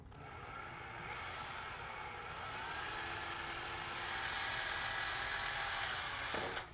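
A power drill bores through a piece of wood during a home project, a steady high-pitched whine holding for several seconds before winding down, close and alone.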